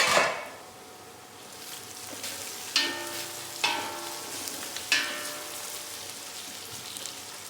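Onions sauté in a pan for biryani, giving a soft continuous sizzle with several sharp scraping stirs of a spatula at intervals, close and moderately quiet.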